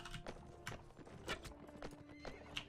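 A horse in the medieval combat game Mount & Blade: Warband gallops with rapid clip-clopping hooves and lets out a neigh, heard alongside battle noise.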